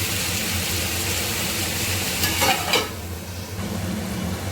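Chicken frying in a covered pan over a low gas flame, a steady sizzle and hiss running throughout, with a brief louder crackle near the middle.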